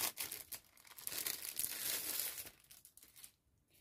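Paper sheets rustle and crinkle as they are handled close by, soft crackling that swells and then fades to quiet.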